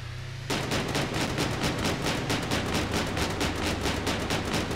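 Rapid gunfire from the Scraps vehicle-combat game starts after a brief quiet lead-in and continues as a dense, loud, steady burst of repeated shots.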